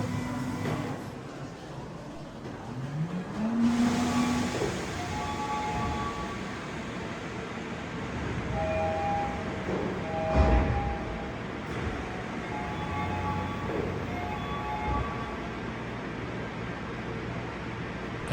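A train rolls along rails through Tokyo, a steady low rumble and hiss of wheels with a few brief tonal squeals and beeps rising above the continuous noise, heard from inside or close by.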